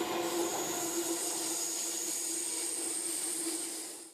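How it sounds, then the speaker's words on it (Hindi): A Delhi Metro train speeds along with its doors open, a loud, steady roar of rushing air and rail noise with a sustained high squealing tone, fading at the very end. "तस्वीरों में आप साफ देख सकते हैं कि मेट्रो कितनी तेज रफ्तार के साथ दौड़ रही है और दरवाजे खुले हुए हैं।"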